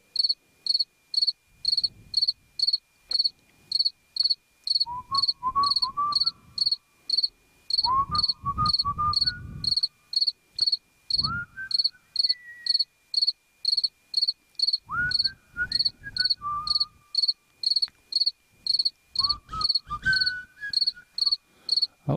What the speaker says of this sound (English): Shut that damn cricket up.